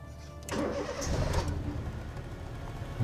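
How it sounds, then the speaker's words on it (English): A Honda Civic engine cranks and catches, its starter whir giving way to a steady mid-pitched idle with a slight rev. The sound is close and fairly loud and runs without any talk. "Maybe start the car."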